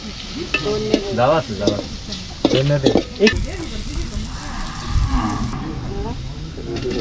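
Meat curry with plenty of herbs bubbles and sizzles in a rural Bangladeshi village mud kitchen, loud stirring and frying sounds beneath people chatting nearby.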